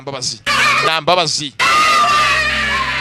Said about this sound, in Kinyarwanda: Izabana bararize bavuze induru.